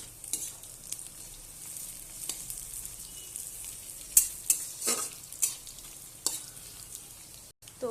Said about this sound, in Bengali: ভালোভাবে একটু ভেজে নেব। তো এখানে আমি 4টা কাঁচা লঙ্কাও দিয়ে দিলাম।